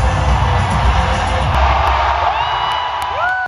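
A big crowd at the Amritsar Beating Retreat border ceremony cheers, whoops and shouts in a loud, sustained roar. A few high rising whistle-like tones cut through near the end.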